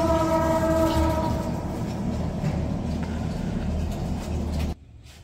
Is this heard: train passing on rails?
yes